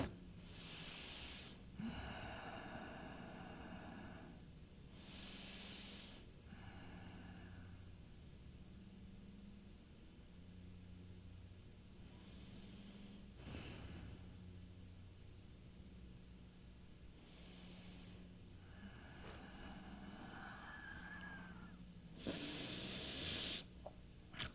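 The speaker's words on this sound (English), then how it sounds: "Long, sweeping breaths, whisper sound in the back of the throat." Slow, long breaths with a soft whispering hiss in the back of the throat during a chair yoga class repeat at a calm, even pace, each inhale and exhale a quiet drawn-out rush in a still room.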